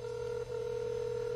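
A phone on speakerphone gives a steady electronic dial tone that breaks off for a moment and then resumes, loud and alone with no voices.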